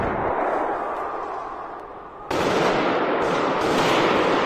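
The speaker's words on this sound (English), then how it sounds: "it is the sound of automatic gunfire." Dense, rapid bursts of unmuffled automatic gunfire crackle continuously during an extremist attack in Moscow, recorded in the same room as the gunmen, dropping briefly and then returning louder and sharper after a sudden break.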